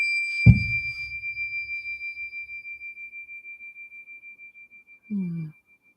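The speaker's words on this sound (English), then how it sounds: "So I'm gonna ring this bell." A small bell is struck once, giving a sharp close clang whose clear ringing tone lingers and fades steadily over several seconds, followed by a short low hum at the end.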